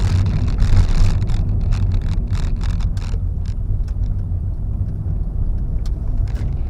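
A 2015 Honda Jazz on the road gathers speed and then brakes, its steady engine and tyre rumble continuous and close with wind buffeting, no voices over it.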